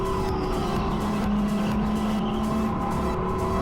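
Go-kart engines race around a supercharged track in New Jersey during an overtake, a steady loud droning engine roar with a sustained whine, continuous and close, with no talking.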